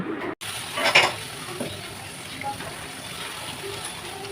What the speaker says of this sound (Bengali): এবার পরিমাণ মতো হলুদের গুঁড়ো, মরিচের গুঁড়ো, ধনিয়া গুঁড়ো ও স্বাদ মতো লবণ দিয়ে আবারও কষিয়ে নেব